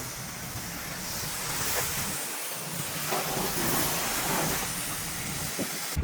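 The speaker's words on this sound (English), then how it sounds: "I'm gonna finish rinsing everything off" Broad, steady hiss of water spraying across a car during a rinse before an agitation wash, continuous and fairly loud with slight surges, alone with no talk.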